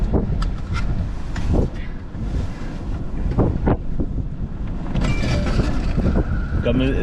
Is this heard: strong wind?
yes